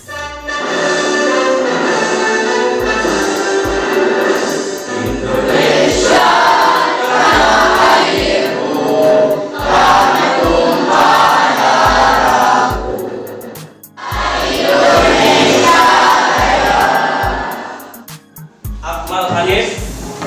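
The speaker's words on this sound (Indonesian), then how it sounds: "Kita lanjutkan dengan menyanyikan lagu Indonesia Raya." An Indonesian school class sings the national anthem Indonesia Raya together, a sustained chorus of young voices filling the room, loud and continuous with short pauses between phrases.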